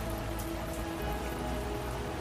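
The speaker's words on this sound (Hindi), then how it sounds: "तभी तेज बारिश शुरू हो गई।" Heavy rain pours steadily, a dense even hiss of drops on surfaces with no pauses, close and continuous, with no voices.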